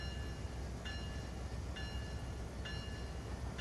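A train rumbles past on Cajon Pass in the Train Sim World 3 video game, giving a dense, steady roar with faint repeating high clicks, and no voices.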